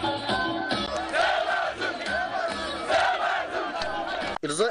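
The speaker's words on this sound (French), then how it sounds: "Ils ont été ovationnés par les militants sous un fond de slogans et chants dédiés au candidat Bazoum Mohamed" A large crowd of political party supporters at a campaign rally in Niger cheering and chanting slogans, dense loud massed voices rising and falling in rhythmic chants.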